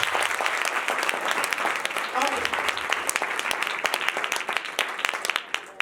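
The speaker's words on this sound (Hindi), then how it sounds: "तालियां बजा देना आपको।" A church congregation applauds during a Hindi-language sermon on money and power, with dense steady clapping lasting throughout at a fairly even level, plus scattered voices in the room.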